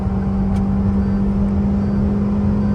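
Tuned Tata Nexon and stock Suzuki Baleno running side by side in a drag race, a steady loud engine drone with a strong low hum holding throughout, no voices.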